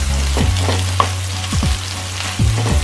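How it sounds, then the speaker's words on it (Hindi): Chopped garlic, onion and green chilies fry in a pan while being stirred for matar paneer, a close, loud sizzle broken by repeated scraping strokes of the spoon, with no talk. "ये जो लहसुन काटा हुआ है, तो इसे आप अच्छे से चलाते रहिए"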